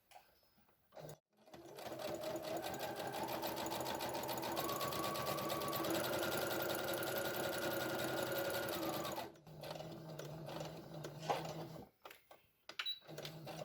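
A sewing machine stitches the hem of a homemade fabric face mask, running in one steady rapid whir for several seconds after a short start, then stopping, followed by quiet handling clicks.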